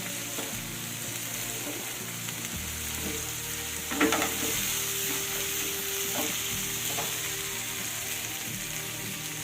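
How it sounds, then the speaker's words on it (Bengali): Spice paste for Rangpur-style dim telani egg curry sizzles and crackles steadily in hot oil while being stirred, with occasional spatula scrapes and a brief louder clatter partway through; no voices. "সব মিলিয়ে পাঁচ মিনিট কষালেই কিন্তু ঠিকঠাক কষানো হয়ে যাবে"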